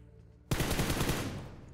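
Sustained MG3 machine gun fire in the BGMI zombie mode video game erupts abruptly after a quiet moment, a loud, dense, rapid burst of shots that continues without pause.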